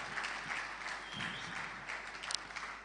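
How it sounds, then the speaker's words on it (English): Audience clapping after a fireside chat at a tech week event, a fairly quiet, steady patter of applause from a crowd heard at a distance, with some faint voices in the room. "Can you please clap for them one more time?"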